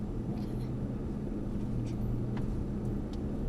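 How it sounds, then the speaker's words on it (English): A Mercedes-Benz 4x4 drives past tyres on an off-road course, a steady low engine rumble heard from inside the vehicle, droning evenly throughout with faint rattles above it. "you're going to drive us along past these tyres"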